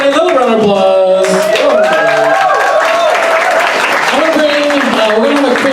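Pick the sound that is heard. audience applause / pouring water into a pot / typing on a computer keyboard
audience applause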